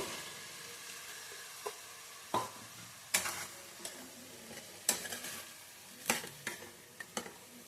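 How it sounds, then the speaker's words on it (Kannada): Fenugreek leaves and peas fry in a little oil in a pan, a quiet hiss broken by repeated sharp scrapes and taps of a stirring spoon at irregular intervals, close up with no talk. "ಮೆಂತ್ಯ ಮಾತ್ರ ಒಂದು ಸ್ವಲ್ಪ ಫ್ರೈ ಮತ್ತು ಬಟಾಣಿ ಹಾಕ್ಕೊತಾ ಇದ್ದೀನಿ"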